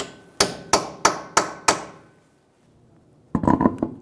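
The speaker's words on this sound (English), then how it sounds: "Using a hammer and a punch, we're going to stake the axle nut." Five sharp metallic hammer strikes on a punch staking a front axle nut on a 2003-2008 Honda Pilot, in a steady rhythm, then a pause and a rougher clattering burst of knocks close by.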